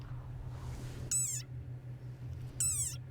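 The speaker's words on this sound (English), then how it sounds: "Like this desert rain frog. Squeaking viral sensation." A desert rain frog gives two short, high squeaks about a second and a half apart, each a quick wavering chirp over a steady low hum, close and distinct.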